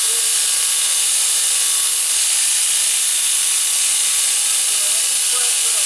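An angle grinder grinds down a flux core weld on a rocker panel patch of a 1998 Ford Ranger 4x4, a loud, steady, high-pitched whine with harsh hiss, continuous and without letup.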